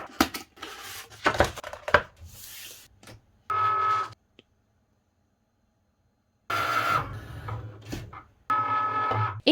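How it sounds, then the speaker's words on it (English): Cricut Maker cutting machine slicing Infusible Ink sheets, with whirring carriage runs and clicking bursts that start, stop and resume in separate passes, broken by a long silent pause. "send this to the maker to cut the Infusible ink sheets"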